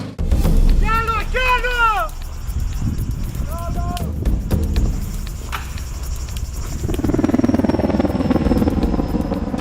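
A helicopter flies over an area of wildfires burning on Evia Island, Greece, its steady rotor throb continuing throughout under people talking and scattered knocks.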